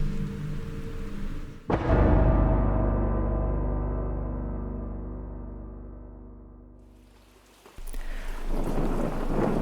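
A thunderstorm over a rocky islet at night on a roaring dark sea: a sudden loud thunderclap bursts in with deep rolling rumble that fades slowly, set against steady rain and wind noise.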